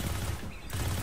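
Rapid gunfire from the video game Destiny 2, fired at harpy enemies, dense and loud in bursts, dipping briefly mid-clip before the shots resume.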